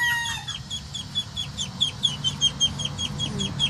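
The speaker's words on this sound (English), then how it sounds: "You can hear the Muscovy hen in the background quacking." Rapid, rhythmic high-pitched quacks repeat steadily from a Muscovy duck hen some distance away, over a low background rumble, with no talk.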